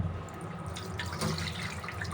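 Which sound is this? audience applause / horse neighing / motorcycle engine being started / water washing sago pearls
water washing sago pearls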